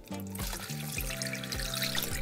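Water poured with goji berries into a skimmer while making a cordyceps militaris and goji berry soup, a steady splashing trickle running under a louder backing of stepped musical notes.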